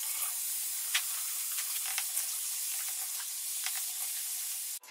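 Vegetables are rinsed under running water, a steady soft hiss with brief splashes and light knocks, continuous until it stops at the end.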